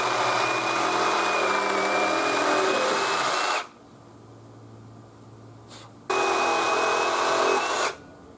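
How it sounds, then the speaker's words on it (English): A power tool cuts the tops off wooden fence posts during fence building, running in two loud sustained bursts of whining, buzzing cutting separated by a quieter pause, close by. "we're going to cut off the top of these posts"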